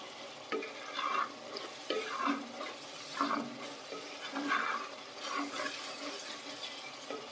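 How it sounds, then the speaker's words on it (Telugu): Tamarind fish curry masala frying in a pan, a soft steady sizzle broken by regular scraping strokes of a spoon, fairly quiet and close. "ఇలా మొత్తం బాగా ఫ్రై చేసుకోవాలి"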